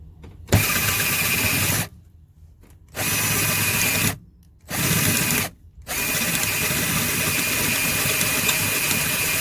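A power drill whirs loudly in three bursts separated by short pauses, the final run continuing steadily at close range.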